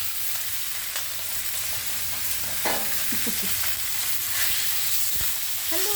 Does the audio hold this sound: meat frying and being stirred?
yes